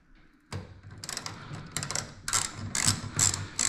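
A hand ratchet loosening a small 8mm bolt on the rear bumper cover of a 2020 Dodge Challenger, a series of close, crisp clicking strokes after a brief quiet start, growing busier toward the end, with no talk.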